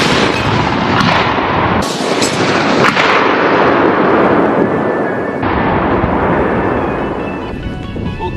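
A Bofors 40 mm anti-aircraft autocannon fires a few heavy, booming rounds close by, each blast leaving a long rumbling decay before the next.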